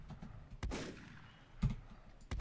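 Gunshots in the Volcanoids video game, three sharp loud cracks spaced unevenly with brief decaying tails over a low ambient background.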